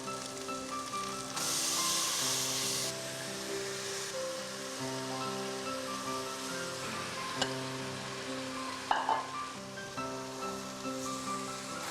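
Soaked rice sautéing in a pan gives a steady, soft frying hiss throughout, swelling briefly early on, mostly beneath prominent background music with a few small clicks near the end.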